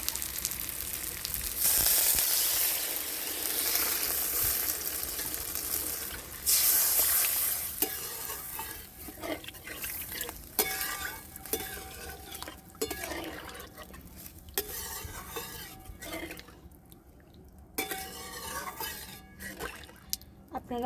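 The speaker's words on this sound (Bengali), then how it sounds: "এবার আমি পরিমাণ মতো জল দিয়ে দিচ্ছি।" Water is poured onto sizzling spices in a pan for a Bengali fish curry with cauliflower. A loud hiss of liquid hitting hot oil fills the first seconds, then settles into a softer, bubbling simmer with occasional clinks.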